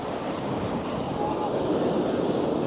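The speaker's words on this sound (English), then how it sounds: "listening to the waves crashing against the steps and the rocks" Steady seaside roar of tide-in waves crashing against steps and rocks on a Blackpool beach, with a dense, continuous wash mixed with wind buffeting the microphone and no distinct break between surges.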